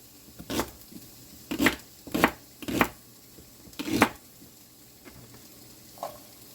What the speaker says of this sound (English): And I have some leek stalks left over, so I'm going to chop them up.